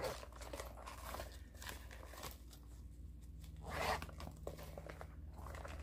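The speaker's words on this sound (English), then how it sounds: "when it zips up into like a triangle and holds everything together very well" A zipper being drawn along a makeup storage bag that folds into a triangle, heard close and quiet as a few short ratcheting pulls mixed with soft fabric rustling and crinkling.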